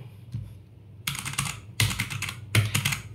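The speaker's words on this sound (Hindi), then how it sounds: "guys this is proper mechanical keyboard जो कि आपको बजट में देखने मिल जाता है" Typing on a Redragon K617 Fizz budget mechanical keyboard: three separate bursts of rapid clacking keystrokes with short pauses between, close and fairly quiet with no talking.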